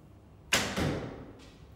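A single arrow, a 500-spine three-fletch Taurus shaft, is loosed from a 40 lb Kadash Egyptian bow by AF Archery, giving a sharp close snap and a short whoosh, with a fainter thud about a second later.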